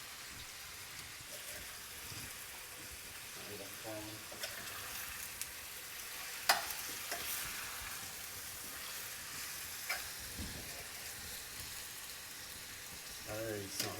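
Curry ingredients with paprika sear in a hot pan, a continuous loud sizzle with occasional sharp crackles and light stirring clatter throughout.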